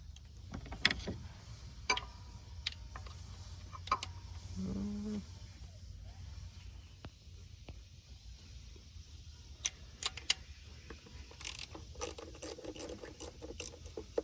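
A wrench ratcheting bolts loose on the timing belt cover of a 2007-2011 Kia/Hyundai 2.0 engine: quiet, close clicking ratchet strokes in short irregular runs with pauses, no talk.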